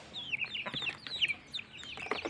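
Native country chickens clucking on a small farm, several birds making overlapping soft, chirpy clucks throughout, nearby but fairly quiet, with no talking.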